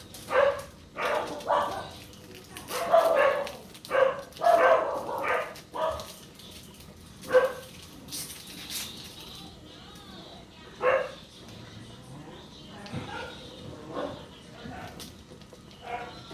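A dog barks repeatedly in short bursts, fairly close, mixed with a voice talking; the barking thins out into quieter yips later.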